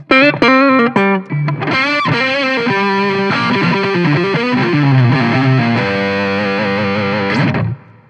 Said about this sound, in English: the other one is my channel switching between clean and distorted